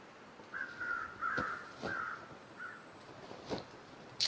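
Crows caw in the video game The Long Dark, a few hoarse calls at middling distance over a quiet wind bed, mixed with sharp clicking sounds and no voices.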